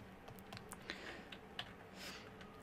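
Light clicks of computer keys as a value is typed while working in zBrush, a handful of quick soft taps and clicks, faint and close, with no speech.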